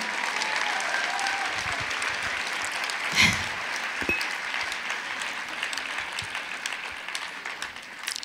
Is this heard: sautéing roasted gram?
no